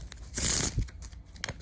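A deck of playing cards shuffled by hand, a quick crisp riffle-like burst lasting about a second, with a few smaller card taps around it, close and fairly loud.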